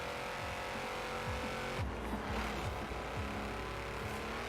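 An all-wheel-drive off-road vehicle's engine pulls hard under throttle, a loud, steady drone with rising and falling pitch sweeps from shifting revs, continuous and close with no talking.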